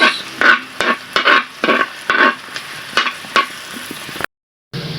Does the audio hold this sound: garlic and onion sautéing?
yes